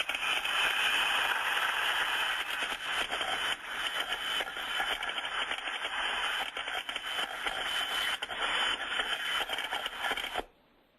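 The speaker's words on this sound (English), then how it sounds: "you can kind of hear it modulating there, a little bit of a crackling sound as that steam comes through" A steam trap in continuous discharge hisses loudly and steadily up close, with a rough crackling texture as steam pushes through, before cutting off abruptly at the end.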